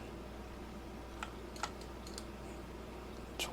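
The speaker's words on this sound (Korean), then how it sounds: "Shift D 눌러서 어떻게 만들 거냐면" A few separate computer keyboard keys are pressed for shortcuts while hard-surface modelling in Blender. They come as sparse, faint clicks over a quiet room hum.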